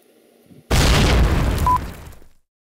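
Potato hand grenades exploding outdoors in a backyard, one loud sudden boom followed by a roaring, crackling blast that lasts about a second and a half before cutting off, with no voices.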